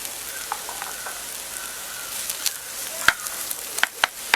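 Chopped onions fry in coconut oil, a soft steady hiss broken by sharp close pops and crackles that grow busier toward the end.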